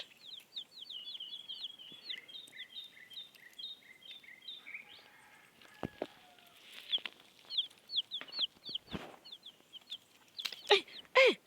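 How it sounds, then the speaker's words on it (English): Chickens kept in a basket, a rapid series of close, bright clucks and chirps, pausing briefly, then resuming in scattered bursts mixed with a few louder squawks. "Me have some chicken in a basket."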